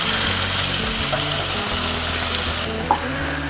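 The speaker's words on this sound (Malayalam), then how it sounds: "ഈ തക്കാളി കുക്കാവുന്ന വരെ ഇത് നല്ലപോലെ അല്ലേ വഴറ്റി കൊടുക്കാം" Onions and tomatoes sautéing in a pan give a loud, continuous close sizzle, with light stirring scrapes mixed in throughout.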